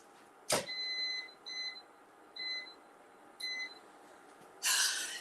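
An air fryer is being set to 400 degrees: its control panel gives short, bright electronic beeps in several small groups, with sharp knocks or clunks at the start and end, in a quiet kitchen with no talk.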